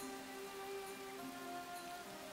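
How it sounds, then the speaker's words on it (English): Rain in The Settlers Rise of an Empire, a faint, steady patter of drops on surfaces with a hiss spread evenly throughout and soft tonal game music humming beneath it. "Rainy season, go away."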